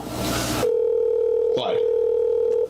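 Telephone dial tone from a call being placed: a loud, steady electronic hum starting after a burst of noise, briefly broken by a clunk partway through, then continuing to the end.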